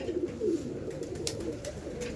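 Madrasi tournament pigeons of a Gola line coo softly in a loft, low murmuring calls close by with faint background noise and no talk.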